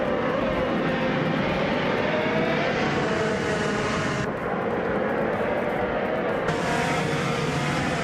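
Race engines of 2018 Chevrolet IndyCars roar as a race starts at Circuito Sagalices, a dense, continuous loud drone of many cars with no pauses, shifting slightly in tone.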